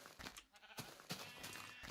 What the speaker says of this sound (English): these sheep are annoying, but they're not worth the effort to actually kill them